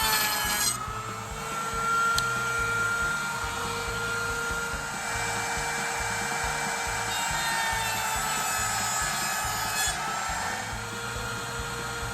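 Router table cutting dovetails in wood, a steady high motor whine with a continuous close cutting rasp throughout, fairly quiet overall.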